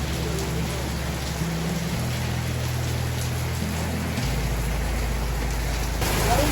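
Heavy rainfall pours down steadily as a dense, continuous hiss with a low rumble underneath, loud and close throughout, with no voices over it.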